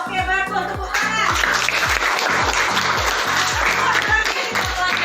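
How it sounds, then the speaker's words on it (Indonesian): Classroom clapping as a group of students applauds together, a steady rhythmic burst of hand claps under a teacher's voice speaking over it, lively and close throughout. "bagus, tepuk tangan"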